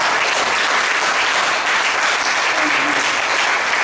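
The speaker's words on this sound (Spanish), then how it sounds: "Denle un aplauso fuerte a Jesús." A church congregation applauds loudly, a dense, steady roar of clapping hands that fills the whole stretch without a break.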